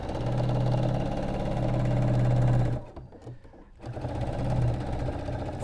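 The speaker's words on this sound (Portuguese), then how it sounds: "Eu vou passar uma costura prendendo toda a parte." A sewing machine stitches a seam across patchwork triangle blocks, running in a steady loud whir that breaks off for about a second before resuming.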